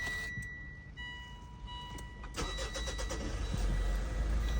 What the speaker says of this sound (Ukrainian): Заводиться, працює м'ягенько